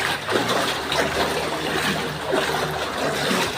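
Legs wading through deep, knee-high floodwater in a Metro Manila street near a gutter: continuous sloshing and swishing of water, close and moderately loud, with no voices.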